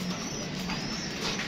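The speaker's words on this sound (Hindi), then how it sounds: "ये है जी कबूतर माशाल्लाह।" Pigeons coo in low, soft, rounded calls over a steady background hiss, with the coos drifting in briefly rather than standing out loudly.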